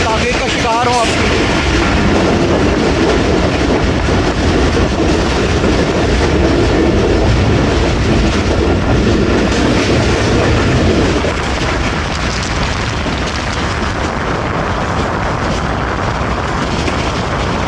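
Rehman Baba Express passenger train rolling along the rails between Rawalpindi and Faisalabad, a loud steady rumble with rhythmic clatter that drops slightly in intensity near the end.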